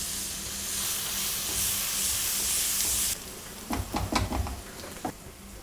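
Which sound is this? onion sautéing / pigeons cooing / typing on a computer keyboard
onion sautéing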